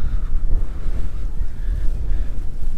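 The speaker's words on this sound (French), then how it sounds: "C'est plus le vent qui nous rafraîchit." Wind gusts by the sea at Sinop, Turkey, roaring across the microphone in a loud, constant rumble mixed with the wash of water along the harbour shore.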